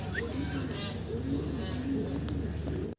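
Steady low cooing of several Andalusian pigeons close by, overlapping continuously, with a few thin chirps from other birds in the background.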